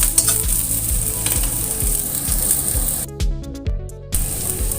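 Blended chili frying in a pan while cooking eggplant balado, a steady close sizzle with repeated scraping stirs, briefly dropping out near the end before resuming.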